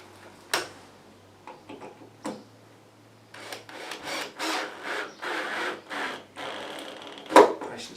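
A drill drives screws into the wooden bracing of a desk in a run of short, grinding bursts, after a few sharp knocks and rubbing sounds on the wood.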